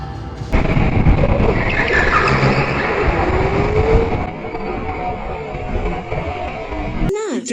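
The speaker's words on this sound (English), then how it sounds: "Found a go-kart track. So we're gonna do some racing." Go-karts racing on an outdoor go-kart track, engines droning and whining loudly at close range with a varying pitch, and a brief sharper burst near the end.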